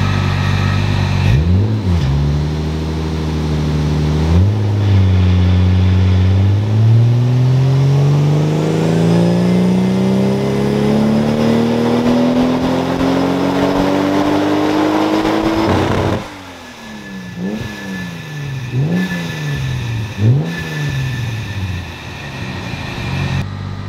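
A Toyota Supra JZA80 with a 2JZ engine on a dyno, running a Link plugin ECU, revs in repeated blips, then pulls one long loud climbing power run before dropping off to choppy revs.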